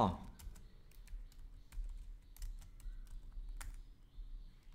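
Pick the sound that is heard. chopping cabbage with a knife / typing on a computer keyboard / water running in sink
typing on a computer keyboard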